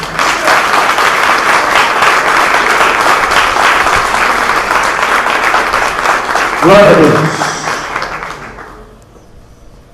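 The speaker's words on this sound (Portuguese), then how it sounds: "Aplaude o nome do Senhor." Church congregation applauding during a Portuguese-language sermon, loud, dense clapping that holds steady for several seconds, a voice calling out near the end, then fading away.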